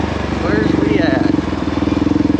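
A Kawasaki KLR650 dual-sport motorcycle runs off road on unknown trails, its single-cylinder engine a close, steady pulsing thump under a rider's talking.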